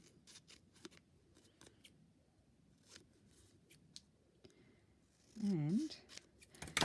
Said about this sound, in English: Don't you love that cutting sound?